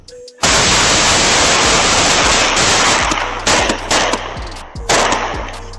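Gunfire during a home burglary shootout: a sudden loud, dense burst of rapid shots that continues for several seconds, then breaks into separate cracks and short volleys as it trails off.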